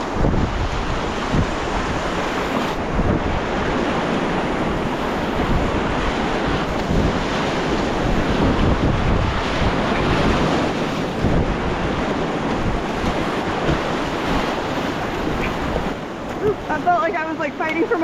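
A big wave train breaks right beside the shore while kayaking: continuous loud surf roar with heavy wind buffeting on the microphone, and voices talk over it.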